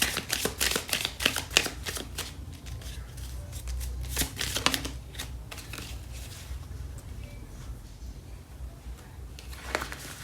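Starseed Oracle card deck being shuffled, a run of crisp riffling and flicking card sounds with brief pauses, close and fairly quiet, no talking over it.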